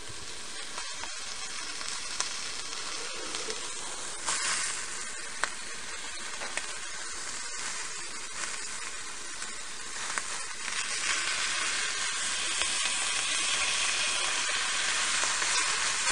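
Steak sizzles steadily in butter in a cast iron pan, a dense continuous frying hiss that swells louder toward the end, with no voices over it.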